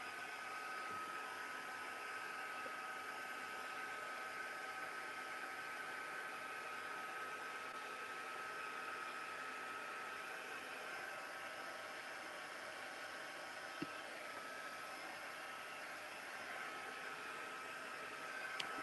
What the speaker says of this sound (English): we need the heat tool, which I was using the other day at mine